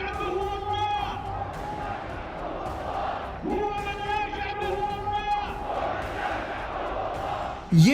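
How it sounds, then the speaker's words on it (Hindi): A huge Friday crowd rallies in Sanaa, Yemen, in support of the Houthis, chanting loud rhythmic slogans in unison, wave after wave, with a dense roar of massed voices throughout and a sudden shout near the end. "ये भीड़, ये जमावड़ा, ये जम्मे गफीर देखिए, ये यमन की राजधानी सना है।"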